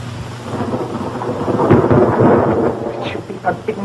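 Thunderstorm at night in a 1934 film, with a loud, continuous rumble of thunder over steady rain that swells in the middle and stays up for a few seconds.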